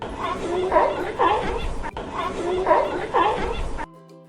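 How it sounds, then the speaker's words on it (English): Repeated hoarse barking calls from a northern fur seal in a noisy colony, with overlapping grunts and bleats forming a busy, babbling chorus that stops abruptly. "Northern fur seal."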